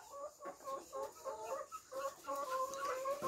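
Free-range hens on a grandfather's small farm cluck in quick, repeated bursts, soft and fairly close, with a few longer drawn-out calls near the end.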